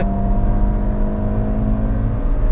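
Skoda Fabia vRS engine pulling hard under acceleration, a steady loud whirring drone heard close from inside the car without voices.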